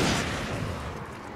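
A hunting rifle fires in the video game Alan Wake: one loud, dense boom with a long rolling tail and no voices over it.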